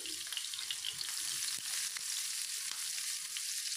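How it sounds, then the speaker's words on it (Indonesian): Chili, garlic and ginger sautéing in a hot pan, a dense continuous sizzle and crackle with a few faint stirring clicks, close and steady throughout with no talking. "Tumis cabai, bawang putih, dan jahe"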